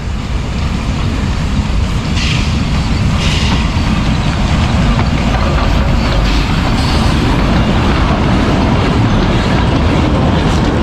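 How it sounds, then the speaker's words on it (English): A train rumbles past close by, a steady loud roar of wheels on rails with faint rhythmic clatter throughout. "I filmed this train, it's cool."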